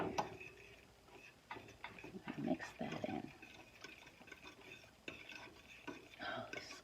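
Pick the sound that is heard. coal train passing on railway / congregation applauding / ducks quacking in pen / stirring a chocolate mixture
stirring a chocolate mixture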